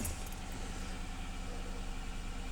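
A Lincoln Grand Marquis idles just after starting, a faint, steady low engine rumble with no voices.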